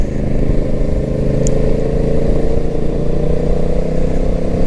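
A motorbike riding along a rough road, a loud, steady engine drone with wind rumble throughout and no break in the noise.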